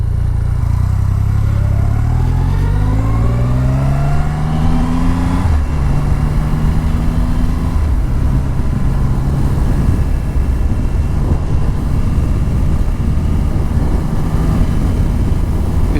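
Triumph Rocket 3 motorcycle engine, a big torquey triple on a demo ride, revving up loudly and steadily through rising gear pulls, with strong rumble and wind noise throughout, no talk.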